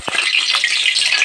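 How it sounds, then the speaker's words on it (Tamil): Oil poured into a hot kadai for Tamil curd gravy sets off a bright, steady hiss and crackle close by. It lasts only a moment, with no voices. "இப்போ எண்ணெய் ஊற்றிக்கலாம்"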